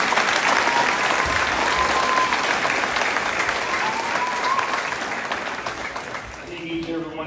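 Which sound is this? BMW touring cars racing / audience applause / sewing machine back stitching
audience applause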